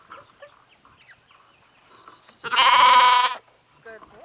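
A sheep in a pen lets out one loud, close bleat lasting about a second, with a man's quiet speech and faint clucking of fowl before and after it.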